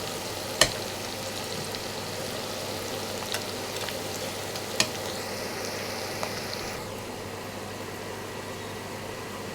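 Onions frying in a pan with chopped garlic, a steady soft sizzle running throughout with a few sharp clicks of a spoon or utensil against the pan, fairly quiet and without talk.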